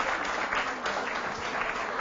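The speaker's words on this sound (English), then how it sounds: "Ladies and gentlemen, once again, a round of applause for Dr." Steady audience applause at a book launch for Beauty Unleashed, dense and continuous throughout with no talk over it.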